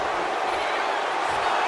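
Arena crowd cheering for CM Punk in the wrestling game WWE 2K26: a steady, broad roar of many voices, continuous and fairly loud throughout.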